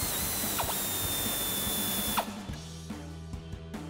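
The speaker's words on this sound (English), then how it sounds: "grab a 10 millimeter swivel socket and extension on our ratchet and go ahead and get that one off first" Ratchet with a 10 mm swivel socket and extension turning a bumper bolt on a 2019-2024 Silverado or Sierra 1500, close, mechanical clicking over a steady background hum.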